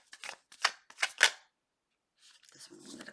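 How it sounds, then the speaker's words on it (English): Tarot cards are shuffled in a few quick, crisp riffling bursts close by, followed by a pause and then a softer rustle. "Last shuffle."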